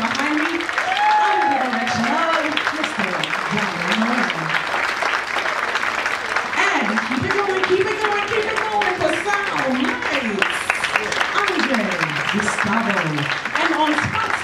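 A concert crowd at a tribute show to soul divas applauds the orchestra, a loud, sustained clapping that continues for the full stretch, with someone talking over it on a microphone.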